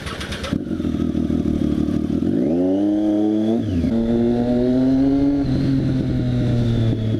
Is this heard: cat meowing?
no